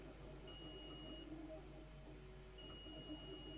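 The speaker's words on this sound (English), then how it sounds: "when I push the pedal on here, see the meter beeps" Meter on a Routemaster model bus beeping when its pedal is pressed, two faint thin electronic tones about a second long each, separated by a pause, over quiet background hum.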